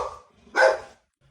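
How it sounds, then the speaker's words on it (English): A puppy lets out one short, sharp bark, fairly close and moderately loud, followed by quiet. "They like to bark every now and then."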